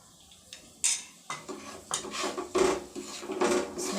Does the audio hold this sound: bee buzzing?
no